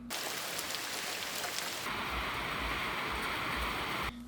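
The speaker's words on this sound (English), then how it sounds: "we had a rain pour during that day when we were trying to go on the catamaran" Heavy tropical rain pours in Costa Rica in a dense, continuous hiss, loud and close, with the downpour intensifying partway through.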